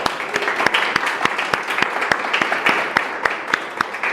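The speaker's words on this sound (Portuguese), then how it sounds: "Um forte aplauso para Raquel." An audience applauds with sharp claps standing out against the general clapping noise, moderately loud and unbroken.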